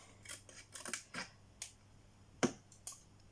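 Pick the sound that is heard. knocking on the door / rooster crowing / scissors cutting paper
scissors cutting paper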